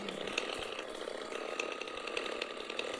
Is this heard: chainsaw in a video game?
yes